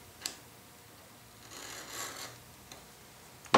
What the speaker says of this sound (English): take your ruler and a marking knife and just mark yourself two lines on a scrap board